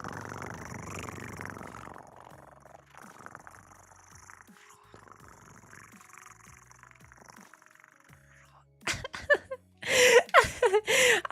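A person imitates a cat's purr with a low, rolling rumble in the throat, fairly quiet and sustained, followed by laughing and louder voices at the end.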